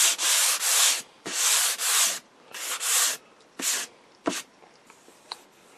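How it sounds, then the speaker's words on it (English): Hand sanding lightly over a fresh finish on an RCA Radiola 60 radio cabinet, in close, rhythmic scratchy strokes that grow shorter and sparser toward the end, with no talk. "We don't want to sand all the stuff off that we just put on, just light to get any little high spots,"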